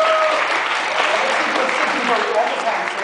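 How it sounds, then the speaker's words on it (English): A crowd gives sustained, even clapping, loud and near, with faint voices mixed into the applause. "Give her one more round of applause."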